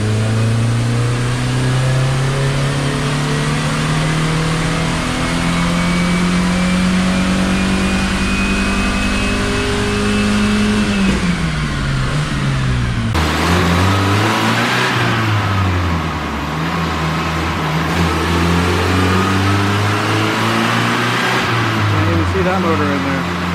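A 1986 Plymouth Voyager's 2.2 L engine revs hard on a dyno in a third gear pull. The loud, close engine note climbs steadily, dips sharply midway and then keeps rising and wavering.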